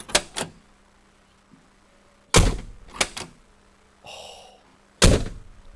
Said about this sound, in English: that sounds like a truck door